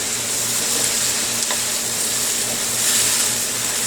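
Oil heating in a T-fal 14-inch jumbo wok gives a steady, close, even sizzle of frying with faint scraping, continuous and without talk.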